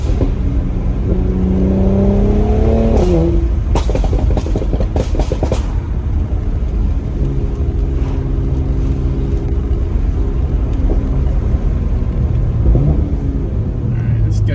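A Mercedes C43 AMG with an aggressive aftermarket exhaust revs up to about 4,000 RPM several times, a loud close rumble rising and falling with sharp crackles in between, alongside a steady background of outdoor noise.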